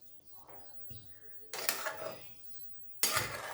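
Fenugreek vegetable dish being stirred in a pan: soft scraping at first, then two loud bursts of clattering metal scraping against the pan, close up.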